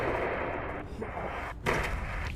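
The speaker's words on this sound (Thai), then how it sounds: "เครื่องบิน ทิ้งระเบิดแล้ว" Continuous rumbling blasts and explosions as a plane drops bombs in the video game Into The Dead 2, loud and dense, with a sharper boom near the end.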